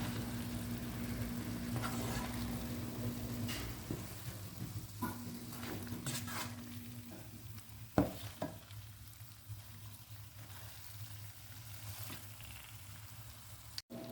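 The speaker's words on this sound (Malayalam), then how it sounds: "അപ്പോൾ ഞാൻ മസാലയും മുട്ടയൊക്കെ കൂടി നന്നായിട്ട് മിക്സ് ചെയ്തെടുത്തിട്ടുണ്ട് കേട്ടോ" Egg and masala stirred together in a pan for Kerala egg roast, with a steady quiet sizzle beneath occasional scrapes and taps of a spoon, close by and without speech.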